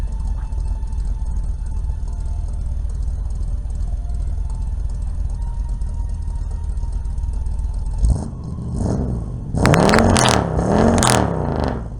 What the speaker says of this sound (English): give you a shot of the exhaust